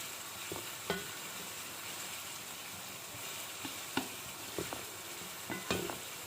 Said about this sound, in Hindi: तो हमने इसमें सबसे पहले अदरक लहसुन का पेस्ट ऐड कर दिया है। अब हम इसको थोड़ा सा पकाएंगे इसमें।